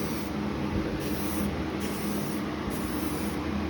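Spray paint hisses steadily onto lathe access panels, a continuous close-up spray with a few slight pulses in intensity and no talking.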